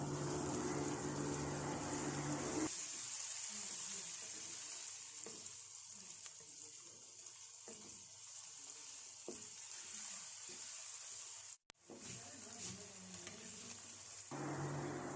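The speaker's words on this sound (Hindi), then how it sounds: "अब अच्छी तरह से मसाला भून लूँगी।" Spiced masala of salt, turmeric and black pepper powder frying in a pan for macaroni, a steady close sizzle with occasional stirring scrapes, running alone and unbroken apart from a brief dropout near the end.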